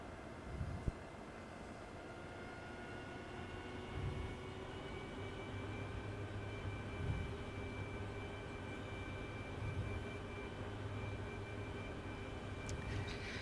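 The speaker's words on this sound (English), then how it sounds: "I'm gonna try to land on the helipad" A Harrier jet sets down on a cruiser's helipad in the DCS combat flight simulator, a sustained whining jet-engine roar with steady tonal hum and a few faint thumps, heard without talk.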